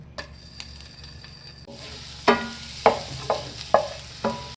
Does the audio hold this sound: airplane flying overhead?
no